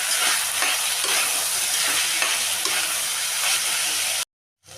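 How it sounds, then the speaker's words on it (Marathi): Rice being stirred and sautéed in a pan for a no-onion, no-garlic rajma chawal, with a steady sizzle and regular scraping strokes of the spoon. It stops abruptly near the end. "यामध्ये चांगलं परतायचं आहे."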